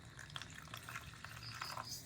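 Hot water goes into flour dough as it is mixed by hand, giving soft, close, wet squelching and sloshing sounds that are faint and irregular, with no talking.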